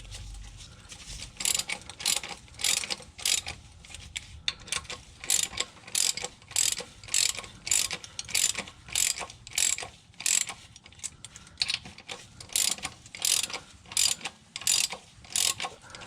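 Ratchet tightening transmission mount bolts on a 1989-1996 Nissan 300ZX, a steady series of close, rhythmic clicking strokes repeating evenly throughout, with no talking.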